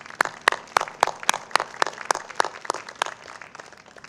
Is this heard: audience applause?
yes